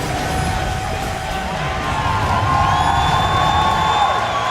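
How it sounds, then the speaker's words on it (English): Stadium crowd at a 2014 League of Legends playoff match between LMQ and Team SoloMid, cheering steadily and loudly with whoops after a TSM game win, a sustained roar with no talk. "The fans cheering behind them."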